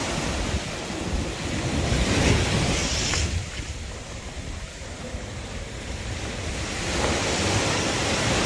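Ocean waves at a beach in Kerala, a continuous loud roar of surf rising and falling in slow swells, with heavy wind buffeting the microphone throughout.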